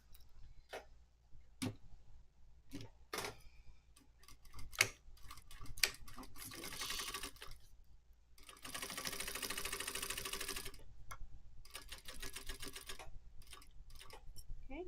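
A sewing machine stitches a seam on a clear stadium bag, starting with scattered single clicks and short stitch bursts, then running in longer rattling stretches of rapid stitching, close and fairly quiet.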